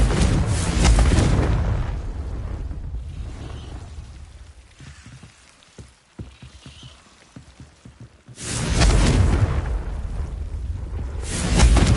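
Confringo fire spell explosions in Hogwarts Legacy, loud broadband blasts at the start and again near the end, with crackling debris and scattered impacts in the quieter stretch between.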